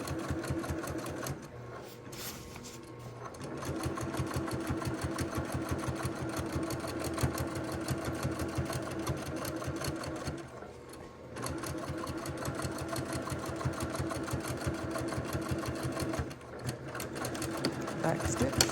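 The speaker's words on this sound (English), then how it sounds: "I'm over at the machine, and I'm going to just sew that onto the shirt." A sewing machine stitching fabric onto a flannel shirt, running in a fast steady mechanical chatter with a few brief pauses, while a person talks over it at times.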